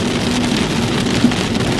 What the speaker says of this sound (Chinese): 来欧洲碰到第一层雨